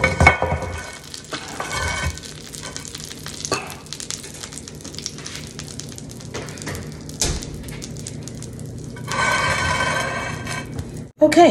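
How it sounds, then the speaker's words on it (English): Butter melting in a hot pan gives a steady, close sizzle and crackle that runs throughout, with brief stirring or scraping and a louder burst of frying near the end. No one speaks. "you want to make sure this butter is melted all over"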